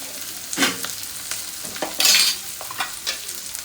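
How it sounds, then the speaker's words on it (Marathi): Chopped onion fries in hot oil in a home kitchen, a steady soft sizzle broken by several louder stirring scrapes at irregular intervals, with no talking. "तर मी पहिला कांदा भाजून घेते."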